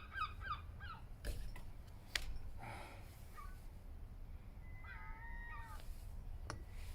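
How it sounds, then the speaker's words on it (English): Seagulls call faintly in the distance in short bursts of squawks near the start and again toward the end, with a few scattered clunks nearby in an otherwise quiet outdoor setting. "seagulls."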